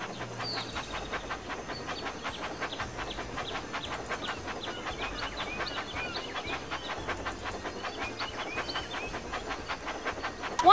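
A toy train from the Thomas and Friends Magical Tracks video game runs along its tracks with a quiet, steady rhythmic clatter and soft hiss, continuous throughout with no talk.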